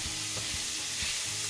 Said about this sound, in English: Now we add the garlic and the onions. And we saute it till it's lightly browned.